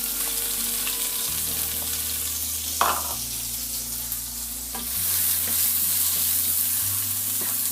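Chopped onion frying in a pan for a Bengali cabbage bhaji, a steady close sizzle with a few clinks and stirring scrapes, no talking.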